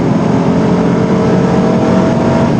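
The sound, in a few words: sports car engine accelerating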